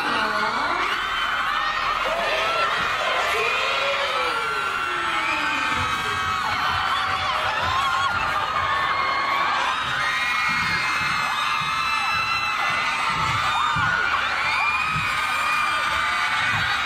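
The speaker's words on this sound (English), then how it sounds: "Look how loud the crowd is too." A large concert crowd screams and whoops continuously at a show in an indoor dome, loud shrill cheering filling the whole stretch.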